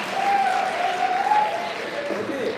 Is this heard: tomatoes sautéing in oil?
no